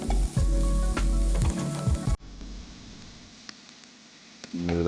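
Spices and cumin powder sizzle and fry in a pan while being stirred for a crispy potato fry, loud and close. The hiss fades to a quieter sizzle, and scraping stir sounds come through.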